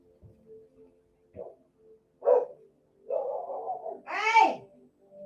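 An indoor dog barks several times in a row. The barks build from short, quiet yaps to louder, drawn-out, rising howl-like barks nearby.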